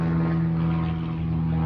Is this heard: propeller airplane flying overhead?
yes